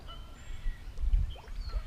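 Geese honking in the background near a fishing spot, a few short nasal calls rising over low outdoor rumble, moderately distant and intermittent.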